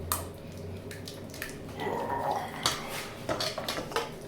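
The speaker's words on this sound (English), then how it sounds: "We're gonna put the mug in the sink for later." A mug is set down in a kitchen sink, with a few clinking knocks of ceramic against the basin and other dishes, close by and fairly quiet.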